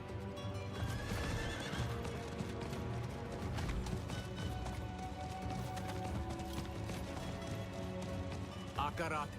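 A horse in a fantasy role-playing video game whinnies and its hooves clip-clop steadily over a dense backdrop of game music and ambience, with a voice talking over much of it.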